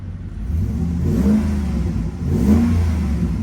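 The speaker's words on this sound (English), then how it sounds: "Give it a little rev, see how it sounds." A car engine revs up twice at a salvage auction lot, each throttle blip swelling from a steady idle and settling back, close and fairly loud with no talking.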